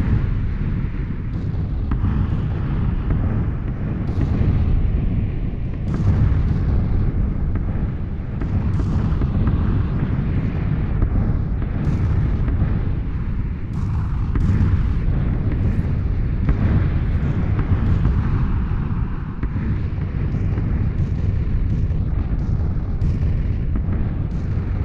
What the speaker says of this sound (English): Bombing all over this area.